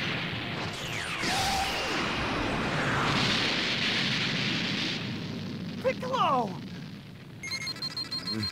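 A loud, sustained Special Beam Cannon energy blast roars in Dragon Ball Xenoverse 2, with sweeping whooshes and rumbling impacts, then sharp electronic beeps near the end.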